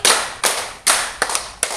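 A group claps together in a rhythmic clapping game, sharp unison claps in a short patterned sequence of about five bursts, loud and close, with no talk.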